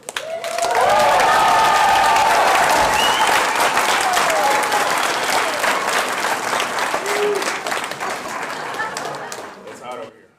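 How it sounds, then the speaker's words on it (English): A comedy show audience bursts into loud, sustained applause and cheering to welcome the tour partner onstage, a dense wash of clapping that holds steady for several seconds before tapering off, with voices mixed in. "give a big round of applause to my tour partner"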